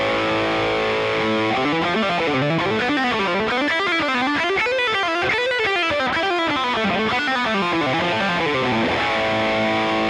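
A versatile electric guitar plays through overdrive, its crunchy distorted notes rising and falling in a melodic run for about ten seconds, loud and steady with no voices over it.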